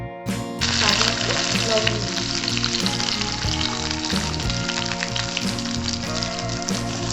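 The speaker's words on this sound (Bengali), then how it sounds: "ফোড়ন, তেজপাতা, শুকনো লঙ্কা ফোড়ন দেওয়ার পর আমি এক এক করে সব সবজিগুলো এখানে দিয়ে দিচ্ছি।" Vegetables frying in hot oil tempered with bay leaf and dried chillies for traditional Bengali shukto, a loud, steady sizzle that jumps up sharply as they go in and carries on dense throughout.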